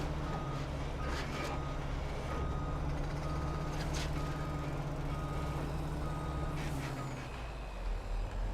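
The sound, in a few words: Volvo truck reversing with beeps, from Farming Simulator 25 video game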